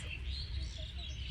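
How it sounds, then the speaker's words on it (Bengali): Faint birds chirp and call in the distance over a low outdoor background hum, with no talking. "কত সুন্দর প্রকৃতি, চারিপাশে পাখির ডাক।"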